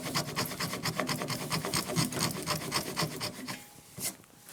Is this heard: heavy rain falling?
no